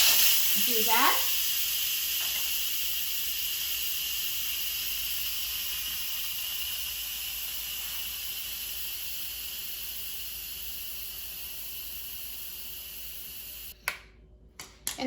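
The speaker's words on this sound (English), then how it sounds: "When the eggs are done cooking, we need to quick release the steam" An Instant Pot releasing pressure through its valve after cooking hard-boiled eggs, a loud sustained steam hiss that slowly fades over many seconds, with a brief word spoken near the start and a few clicks at the end.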